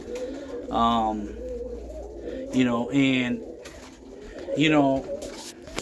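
Roller pigeons coo close by in three throaty, rolling bursts separated by brief pauses, with faint background noise between calls.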